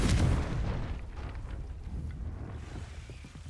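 A Confringo fire blast spell bursts in the Hogwarts Legacy video game with a loud, low explosive boom at the start. A rumbling roar follows and slowly fades over several seconds.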